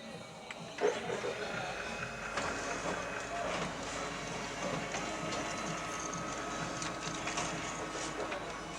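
A Toshiba office printer runs a print job of an ID card laid onto A4 paper, giving a steady mechanical whir with rolling feed clatter and a sharp click near the start, with speech faintly over it.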